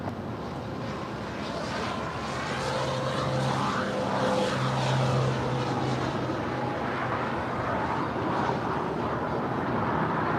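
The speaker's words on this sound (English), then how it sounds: "Virgin Atlantic, the Dreamliner, landing here on the south side." A Virgin Atlantic Dreamliner airliner comes in to land at LAX on the south side, its steady broadband jet roar filling the whole stretch at a constant, fairly loud level with a faint tonal whine.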